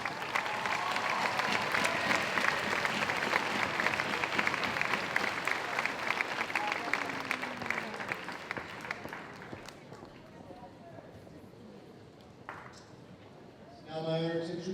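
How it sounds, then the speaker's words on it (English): Sustained crowd applause for graduating high school students at a 2013 ceremony, a broad, dense clapping that holds steady for several seconds, then thins and fades before a voice begins speaking at the end. "let's please a big round of applause for all of our students"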